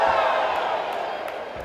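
A packed crowd at a kickboxing event in the Pacaembu gym roars steadily in a broad, sustained wash of cheering, with a few faint thuds.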